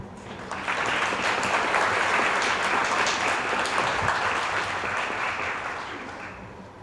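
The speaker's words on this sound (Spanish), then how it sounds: "recibámosla con un gran aplauso" Sustained audience applause fills a hall at a public forum on tourism laws in Mexico City, a steady wash of clapping that swells quickly, holds for several seconds and slowly tapers off.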